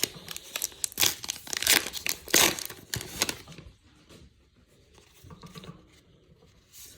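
Packs of Allen & Ginter trading cards are torn open by hand: sharp, close bursts of ripping and crinkling foil wrapper in the first half, then quieter scattered rustling and handling, with no voices.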